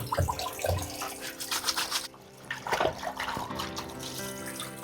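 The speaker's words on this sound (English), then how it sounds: "It's just cold water for washing your hands." A cold hand-washing tap at a campsite in Borth runs water into a basin in uneven splashing bursts, close by and moderately loud, with a brief lull midway.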